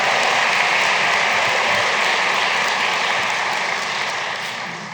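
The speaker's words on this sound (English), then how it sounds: "Let's give ourselves a round of applause." A large commencement audience at a graduate hooding ceremony applauds in a dense, steady wash of clapping that holds at full strength and tapers slightly near the end.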